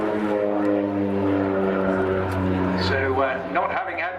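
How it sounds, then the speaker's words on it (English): Propeller aircraft making a wing-waggle flypast at the Torbay Air Show 2018, a steady droning engine hum throughout, with a commentator talking over it. "I thought he would have departed after his wing waggle flyby there"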